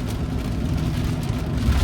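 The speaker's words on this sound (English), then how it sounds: "there we go. Even more rain." Heavy rain drumming steadily on a Tesla Cybertruck driven manually through a storm, a dense continuous wash with low road rumble underneath and no voices.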